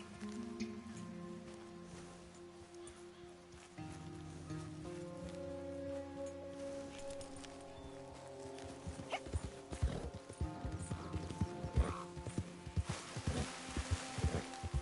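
Horse hooves and a whinny from a horse in the Red Dead Redemption 2 video game: soft ambient game sound at first, then a run of sharp, uneven hoof clops growing louder in the second half.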